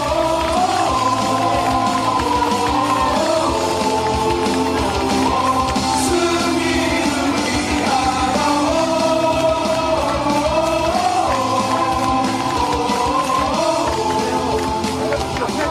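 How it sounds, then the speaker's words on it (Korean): A crowd at a 2024 political election rally in Sejong City, South Korea, roars steadily and loudly, cheering and yelling for a candidate as a continuous dense wall of voices and applause. "뜨거운 박수 부탁드립니다."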